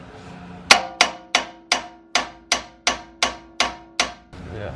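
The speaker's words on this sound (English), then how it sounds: "Now you're gonna need a hammer." Ten sharp metallic hammer strikes on a part of a 2018 Honda Accord during transmission removal, evenly spaced ringing blows, loud and close, with no talk.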